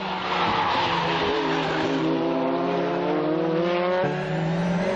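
Tsuchiya's race car charges up a hill straight in continuous high-pitched engine howl with tire squeal, revs climbing steadily, then a brief gear-change dip near the end, loud and close.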